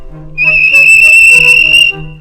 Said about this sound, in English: the whistle blew, and James thought they'd better go.